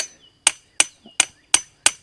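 A bent, reused metal fence post is hammered into the ground on a pasture pig lot, five sharp, ringing metallic strikes at an even pace, loud and close, with short quiet gaps between blows.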